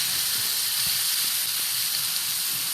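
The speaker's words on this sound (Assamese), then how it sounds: "এতিয়া মই কালাৰৰ কাৰণে কাশ্মীৰী মিক্স পাউডাৰ আৰু 1 চামুচ হালধি অকণমান তেলত দি ভালদৰে ভাজি ল'ম।" Kashmiri mix powder and turmeric fry in a little oil for an Assamese chicken curry, giving a steady, close, bright hiss with faint crackles underneath and no talking.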